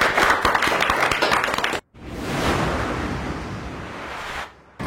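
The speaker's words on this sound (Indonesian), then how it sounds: "Oke, jadi tepuk tangan dulu" An audience at a community talk on culture and literature bursts into applause. Dense clapping breaks off abruptly, then a second, softer stretch of clapping follows before another sudden drop.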